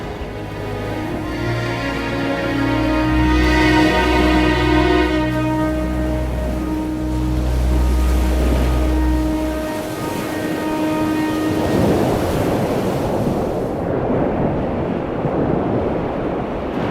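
Ocean waves wash against the Australian coast, a broad rushing surf with some wind that rises in the second half after a passage of soft tonal music.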